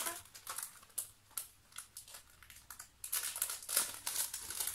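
A plastic pouch of Christmas-themed paper die cuts being opened and handled up close, with a run of crinkling, rustling and small crackles that grow busier toward the end, no voices.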